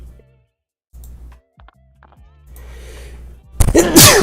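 A single sudden sneeze near the end, loud and close, after quiet stretches of faint room noise and small movements.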